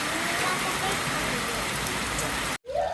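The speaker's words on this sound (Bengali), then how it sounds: "এখন বৃষ্টি পড়তেছে" Rain falls in a steady, close, full-bodied wash that runs unbroken, then stops abruptly just before the end.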